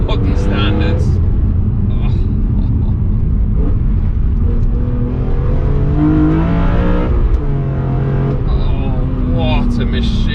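A BMW E46 M3 CSL's engine pulls hard under acceleration inside the cabin, a loud rising and falling drone through gear changes, with people talking over it.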